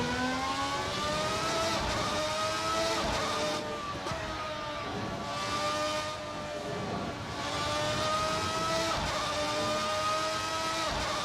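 A historic open-wheel F1 race car in iRacing howls continuously at high revs, its engine note rising and dipping through gear changes and corners, steady and close with no talk.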